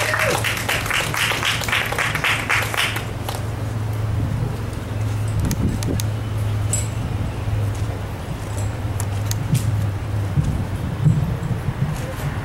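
Audience applause at a Northampton Trans Pride 2012 event, a burst of clapping in the first few seconds that fades into low crowd murmur, background hum and scattered clinks.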